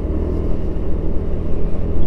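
Motorcycle on the road to Bromo pulling out to overtake a truck, a steady loud low engine and road rumble with wind, close and continuous throughout, no talk.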